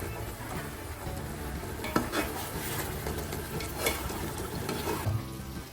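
Pot of rice boiling hard for Hyderabadi chicken dum biryani, a dense, steady bubbling hiss with a few soft clinks of utensils against the pot, close and continuous without speech.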